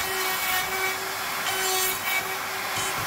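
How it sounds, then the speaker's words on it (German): A router mills open dovetails into 25 mm beech heartwood boards, giving a steady high whining hum with rough cutting texture that runs continuously and fairly close. "habe ich mit meinen 25 mm Buchenplatten gerade noch die Möglichkeit, diese offenen Zinken anzufräsen"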